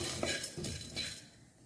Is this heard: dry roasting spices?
yes